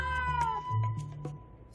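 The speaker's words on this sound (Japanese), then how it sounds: "さっきからよく泣く猫だな。" A white cat with brown-striped ear tips and tail tip meows repeatedly, close and fairly loud, a few drawn-out cries with no talking over them.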